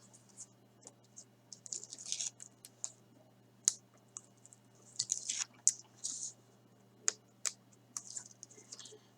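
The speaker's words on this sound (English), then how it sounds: "So I'm just gonna peel the backing off of" Backing being peeled off double-sided tape for card making: a series of quiet, crisp crackling and tearing bursts that come in irregular clusters, close by and alone, with no talking.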